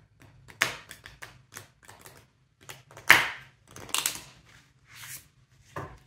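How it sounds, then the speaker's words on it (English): Irregular papery taps, flicks and soft slaps of oracle cards being shuffled, close by, in uneven bursts with short pauses between. "Just going to shuffle."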